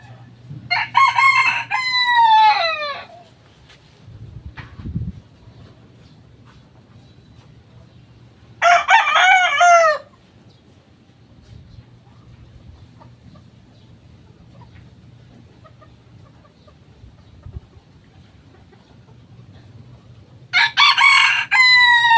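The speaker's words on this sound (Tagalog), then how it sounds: "Gusto ko sana ilabas yung mga manok." Roosters crow loudly in three separate bursts, spaced several seconds apart, with quieter farmyard clucking and low background noise between them.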